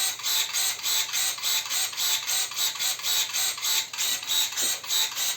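SHIDOKU electric pruning shears converted from two-contact to three-contact wiring, running on their own with a steady, rapidly pulsing mechanical whir that repeats evenly several times a second, close and fairly loud.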